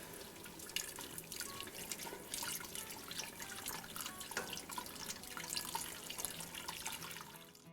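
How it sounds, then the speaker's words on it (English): Chicken stock poured slowly into a pot while being stirred for wild rice chicken soup, a steady close liquid pour with splashing and dripping that runs without a break and has no talk over it. "now we're going to slowly add our chicken stock, stirring the whole time"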